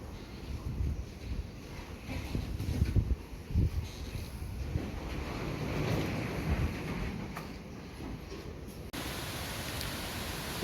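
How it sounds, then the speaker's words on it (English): Ocean waves roll in on a Philippine beach under wind from the outer bands of a typhoon: a steady, broad wash of surf with gusting wind buffeting the microphone, heard from up close, with no voices. "there's some good waves rolling up out there right now"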